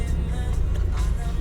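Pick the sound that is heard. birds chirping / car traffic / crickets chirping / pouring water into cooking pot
car traffic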